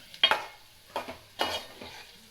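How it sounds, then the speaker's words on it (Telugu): Masala is stirred with boiled eggs in a pan over low flame, producing a few separate scraping, sizzling strokes about half a second apart, close and fairly soft, with no talking. "మసాలా అనేది బాయిల్ ఎగ్కి కలిసేటట్టు మొత్తం తిప్పుకొని"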